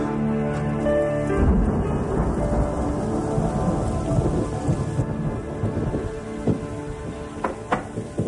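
Thunderstorm with heavy steady rain pattering on surfaces and rumbling thunder swelling and rolling through, loud and continuous with music-like tones underneath and no speech.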